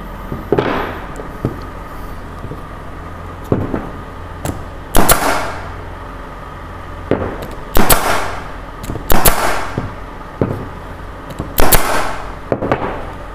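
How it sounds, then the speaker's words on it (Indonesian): An Ingco GA18 combo brad nailer drives nails in a series of sharp, loud pneumatic bangs, each followed by a short hiss, spaced a second or two apart over a steady background hum, close by and without speech. "tentang alat paku tembak dari Inco ini"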